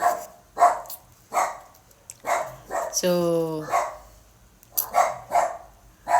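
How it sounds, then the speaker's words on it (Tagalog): A dog outside barks repeatedly in short bursts, fairly close, with a brief whimper-like cry in the middle and a voice speaking between barks. "sa aso nasa labas ang ingay"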